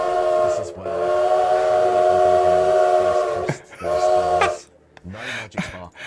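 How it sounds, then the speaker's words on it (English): A train whistle sound effect serving as a Twitch hype train alert rings out as a loud, sustained, chord-like blast, then a second, shorter blast, and a voice follows near the end. "I thought the train sound was from this."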